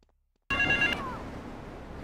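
A payphone in Grand Theft Auto III bursts into a single electronic ring after a moment of silence, a bright, short warbling tone that cuts off and leaves quiet ambient hum behind.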